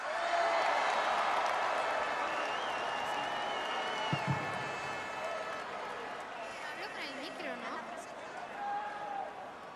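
Huge outdoor crowd cheering and applauding at the Cibeles celebration of Spain's Euro football champions, a broad sustained roar with whistles and shouts, fading slightly as a voice and music come in.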